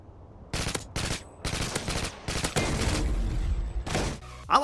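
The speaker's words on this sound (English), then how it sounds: "the Modern Warfare 2 ACR" Bursts of automatic fire from the ACR rifle in Modern Warfare 2, Call of Duty, several sharp rapid volleys separated by short pauses, loud and close, ending with a mechanical clack.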